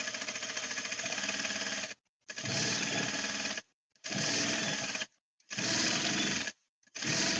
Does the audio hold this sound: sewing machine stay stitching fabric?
yes